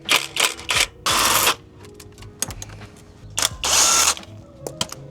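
A ratchet works loose 8mm bolts on a Mazda BT-50 transmission, with quick clicking bursts and short spinning runs alternating with metallic taps and pauses, loud and close.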